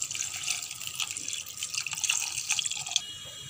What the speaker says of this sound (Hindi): अब इसमें हम डालेंगे 3 कप पानी।